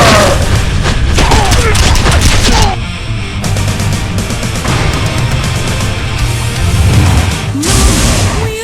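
A gunfire volley rings out after a shouted order to fire, a loud, dense barrage of booms under music and effects that runs throughout, with a brief drop midway.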